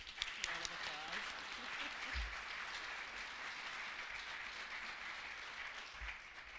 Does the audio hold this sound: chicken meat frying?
no